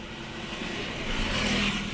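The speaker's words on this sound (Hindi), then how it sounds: "गाड़ी एक बार में स्टार्ट हो गई" A new Hyundai i20 that had been having trouble starting runs as a close, low engine hum that swells slightly partway through, with no voices.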